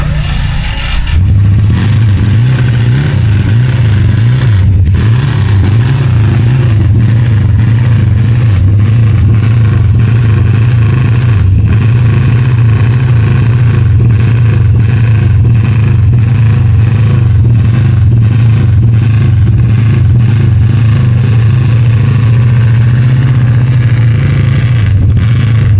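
An AJS E90 Porcupine racing motorcycle engine runs loud and close for the whole stretch, a steady throaty drone with repeated revving swells and blips.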